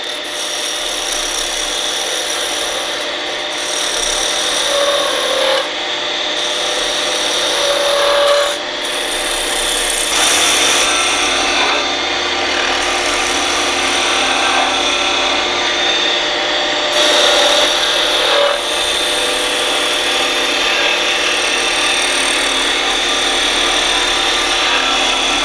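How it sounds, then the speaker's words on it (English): A skew chisel planes a turned wooden lamp shaft spinning on a lathe, giving a loud, continuous rasping shear that runs for a long stretch with brief dips as the cut is repositioned. "Now we'll just use the skew to plane this to a perfect cylinder."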